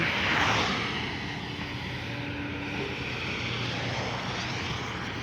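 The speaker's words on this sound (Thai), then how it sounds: "เสียงเครื่องนิ่มๆนะครับ" A Kobelco SK200-10 excavator's diesel engine runs with a smooth, steady drone and a faint whine on top, loud and close, continuous for the whole stretch with no speech.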